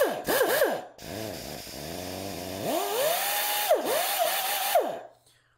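A pneumatic band file with a quarter-inch band and a small rubber front wheel runs on shop air, winding up to a high whine in short bursts that swoop and dip, then stops and falls silent.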